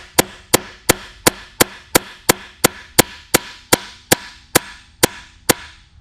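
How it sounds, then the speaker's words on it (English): Sharp metallic hammer blows drive a seal driver to seat an oil seal on a Duramax diesel engine during assembly, about sixteen evenly spaced strikes ringing out close and loud with no talk. "you'll hear the change in tone when I'm hitting this home."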